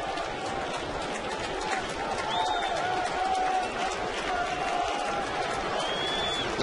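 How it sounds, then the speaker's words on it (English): Large baseball stadium crowd of about 47,000 at a Thursday night Royals at Yankees game, a steady distant murmur with occasional whistles and shouts rising above the wash of noise. "Huge crowd at the stadium."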